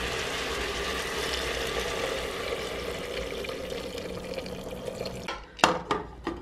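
Hot water pours steadily into a pressure cooker of beans for several seconds, ending with a few sharp clatters and splashes as the pour stops.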